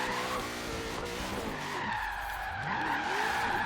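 A Crown Victoria drift build in Forza Horizon 3 slides through a corner, its tires squealing loudly and continuously with shifting pitch while the engine drones underneath.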